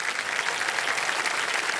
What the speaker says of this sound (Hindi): तालियों के साथ हम चाहेंगे इनका स्वागत हो